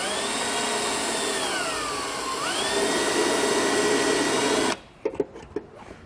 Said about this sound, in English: I'm using my drill bit to mark the holes on the extension